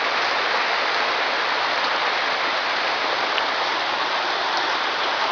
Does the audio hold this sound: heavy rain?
yes